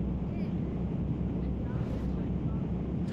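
Steady, roaring wind from the wind barrier in the VR game Gorilla Tag, a constant low rush of air that stays loud and unbroken throughout.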